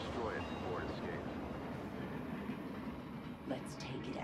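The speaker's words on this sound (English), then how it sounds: "First train's departing." A train departs in the video game StarCraft 2, a continuous rumbling rail noise with faint clatter, steady throughout over game sounds.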